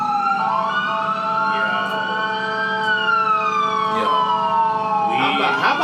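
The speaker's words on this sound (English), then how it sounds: "It's an ambulance." An ambulance siren wails loudly on a city street, its rising and falling tone sweeping past for several seconds before a burst of other street noise at the end.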